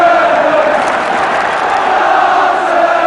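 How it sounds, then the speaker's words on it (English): Football crowd at a Tottenham versus Stoke City FA Cup third round match roaring in support of Tottenham, a loud, dense and sustained wall of chanting and cheering from the terraces that stays constant throughout. "Crowd getting behind Tottenham now"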